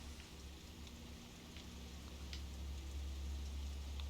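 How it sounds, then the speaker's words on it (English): Rain patters on a window in Fatal Frame: Maiden of Black Water, a faint steady wash of drops with a low rumble beneath, growing slightly louder toward the end. "The sound of raindrops on the window echoes faintly."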